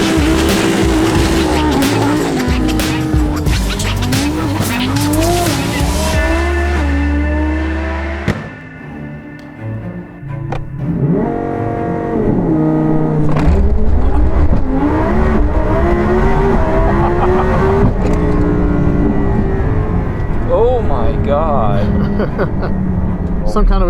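Twin-turbo Audi R8 V10 tuned past 2,000 horsepower accelerating hard down a track, a loud roaring engine climbing through gears with rising pitch, a brief dip mid-run, then surging again with turbo whine, close and powerful.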